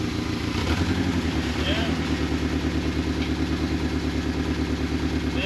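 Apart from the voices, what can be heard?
1983 Turbo Coupe engine running while shifting gears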